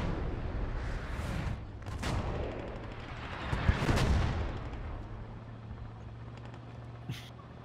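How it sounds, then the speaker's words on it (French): Artillery fire in the World War II shooter Post Scriptum, a series of heavy, rumbling booms at a distance, rolling one after another over a steady low background drone. "c'est l'artillerie carrément qui tire"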